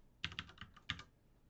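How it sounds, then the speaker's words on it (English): Quiet computer keyboard typing: a short run of five or six crisp key clicks in an irregular rhythm, close by, then stillness. "Let's type in boost."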